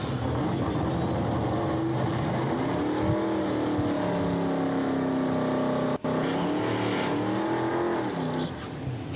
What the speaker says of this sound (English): thumbs up, and we're going to do burnouts